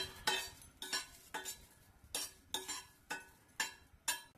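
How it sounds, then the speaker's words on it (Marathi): Chopped green chillies stirred in a pan, a run of about nine evenly spaced scraping, clinking strokes of a spoon against metal, quiet and alone. "आपण छानशा मिरच्या परतून घेऊया"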